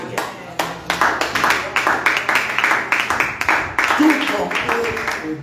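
A church congregation at a morning prayer service claps in a steady, rhythmic beat of sharp, loud hand claps, with voices rising beneath the applause.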